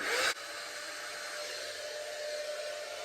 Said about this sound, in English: To try and dry my hair a little bit more, I'm going to turn the heat up on this to number 2.